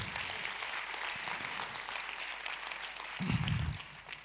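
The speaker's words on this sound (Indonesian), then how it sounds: "Tepuk tangan buat kita semuanya." Audience applause at an Indonesian community anniversary event abroad: a steady wash of clapping from a crowd fills the whole stretch, with a brief low thump near the end.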